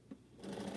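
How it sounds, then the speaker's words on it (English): Sewing machine stitching during a quilting session, a short steady run of needle whirring that starts after a brief bump and carries on at a moderate level. "once I stop sewing"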